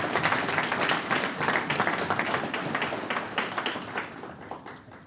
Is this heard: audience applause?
yes